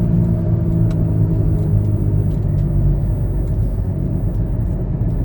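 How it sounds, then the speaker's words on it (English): 2005 Ford Freestyle engine idling after sitting two years, a steady loud low rumble close by, with faint clicks over the drone and no talking. "So you can hear the car's been sitting about 2 years"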